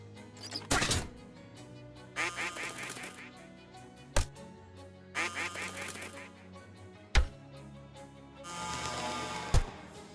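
Cartoonish duck quacks and honks from the Shadows over Loathing video game burst out several times at irregular intervals, each short and fairly loud, alongside game music and effects.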